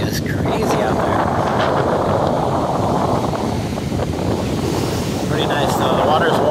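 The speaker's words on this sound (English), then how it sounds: "think it's like still like 15 miles an hour wind right now. But I think it like tomorrow might be a good day. But it's choppy as crazy out there." Strong wind buffets the microphone at Rosarito Beach in Mexico while choppy ocean surf rolls and crashes, producing a loud, continuous roar.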